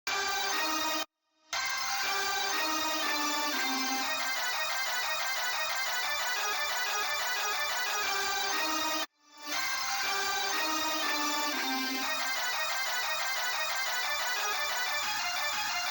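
Dense hyperpop beat drop in an evil track, an older melody layered over its reworked version; bright stacked synths hammer steadily with two brief silent gaps before the beat slams back in, loud throughout.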